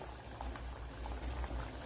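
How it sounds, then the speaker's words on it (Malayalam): Cauliflower simmering in a pot of water for a home-cooked curry, giving a steady, close bubbling and rolling boil with no talk. "പിന്നെ നമ്മുടെ കോളിഫ്ലവർ ഇവിടെ തിളപ്പിച്ചെടുത്തിട്ടുണ്ട്"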